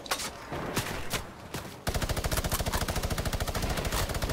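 A minigun in a video game fires a rapid, sustained stream of shots. It starts with a few scattered reports, then settles into a fast, even rattling buzz that stays loud and close to the end.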